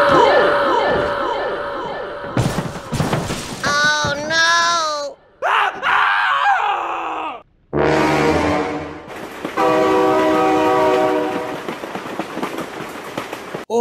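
A train rolls past in the BeamNG Drive driving game, sounding loud sustained horn blasts over a rumbling, clattering passage, broken by abrupt cuts, with excited shouting voices close by.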